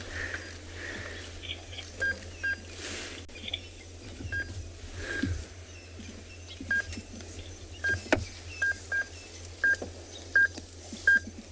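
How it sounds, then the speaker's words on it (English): Short electronic beeps from a safari game drive radio repeat irregularly, some in quick clusters, over a quiet outdoor background of rumble and faint rustling. "Sorry about that beeping. It's the game drive radio."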